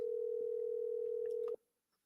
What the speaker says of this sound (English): So let's make this phone call, people.